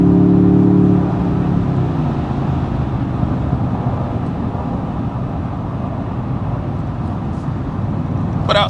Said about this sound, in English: But outside of that, pretty surprising engine.